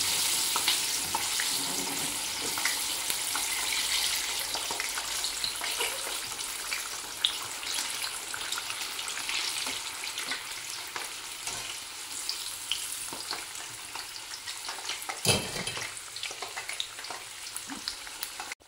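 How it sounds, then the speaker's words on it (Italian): Steady crackling and sizzling of battered zucchini flowers frying in hot oil, with a sharper pop partway through and faint clatter in the background. "sento scoppiare"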